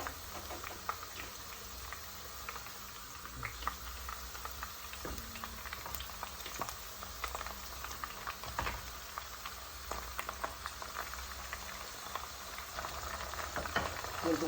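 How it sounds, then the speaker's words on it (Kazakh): Washed meat pieces frying over fried onions in a pot for shah plov, a faint, steady crackling sizzle with scattered light clatters and pops, no voices. "Енді үстіне жуылған таза етімізді кусок-кусогымен саламыз."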